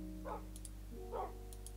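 Tamed dogs in the video game Minecraft give two short barks about a second apart, moderately close, over a steady low hum.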